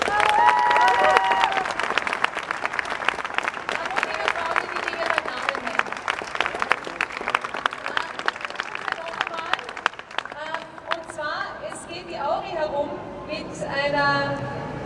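A crowd claps at an outdoor solidarity rally in Graz, with dense, steady applause for about ten seconds before it thins and voices take over.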